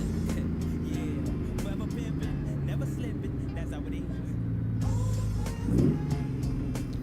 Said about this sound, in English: Downshifting is still a little bit sketchy with this truck.